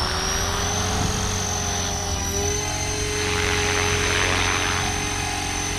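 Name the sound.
radio-controlled model helicopter flying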